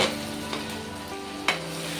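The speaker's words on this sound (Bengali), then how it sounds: "পেঁয়াজগুলিকে লালচে করে ভেজে নেব" Onions frying in a pan until reddish-brown for an egg and red lentil curry, giving a steady close sizzle with a couple of brief clinks of stirring.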